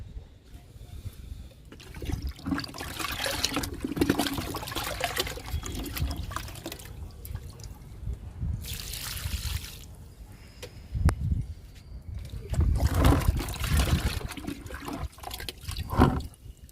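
Liquid fertilizer mixture being poured onto potted fruit plants, a stream of pouring and splashing water in several bursts, close and fairly loud, with no talk.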